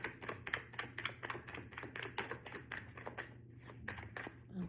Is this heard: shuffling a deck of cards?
yes